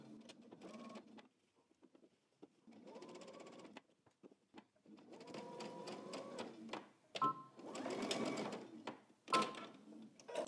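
Sewing machine stitching a jacket pocket bag with a quarter-inch seam and backstitching, running in short bursts of rapid whirring with pauses and clicks between them, fairly quiet, with no speech.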